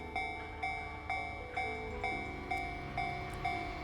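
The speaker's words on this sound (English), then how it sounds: "Oh no, there is actually a train." A train runs along an elevated track, its wheels clacking in a steady rhythm roughly every half second, with a sustained tonal hum behind the beats. The passage is moderately close and continues throughout, with no talking.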